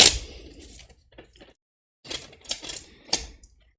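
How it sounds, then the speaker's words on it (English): Tarot cards are shuffled by hand, a sharp riffle burst followed by a pause and then several quick papery flutters and taps, close and fairly loud, with no talking. "Hold on, let me make sure I shuffle this properly."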